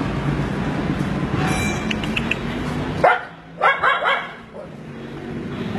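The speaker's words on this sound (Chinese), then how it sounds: "它为什么对着你叫啊？" A small Shiba Inu dog on an old Bangkok street gives a few close, sharp barks in quick succession after a stretch of steady street noise.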